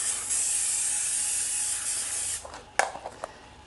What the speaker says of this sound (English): we're just going to spray each of these with just a little bit of olive oil spray